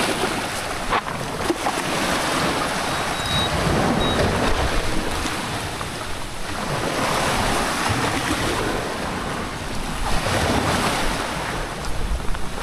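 Sea waves surging and washing ashore near a mansion, a steady broad roar with rising and falling swells and wind buffeting the microphone, no talk.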